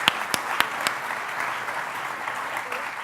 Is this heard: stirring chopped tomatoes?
no